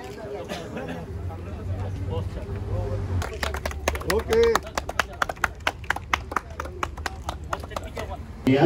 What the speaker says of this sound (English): Claps, everyone, claps.